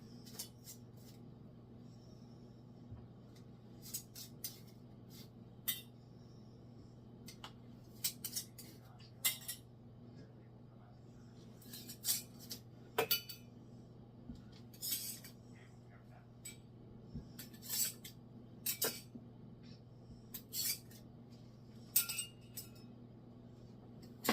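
Glass canning jars of water-bath dilly beans are handled as their metal rings come off and lids are checked, giving sparse, quiet clinks and light metallic taps over a low steady hum, with no talking.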